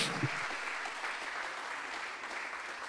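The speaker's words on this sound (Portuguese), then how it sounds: "Você pode dar um lindo aplauso ao Senhor?" Congregation applauding the Lord during a church service, a steady dense wash of many hands clapping that holds evenly throughout, with a brief low voice-like murmur near the start.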